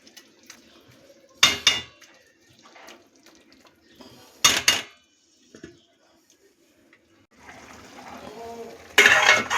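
A lid set onto a pan of tomato and date chutney while cooking, giving sharp metallic clatters that come in a few separate bursts, with quieter handling noises and kitchen sounds between them.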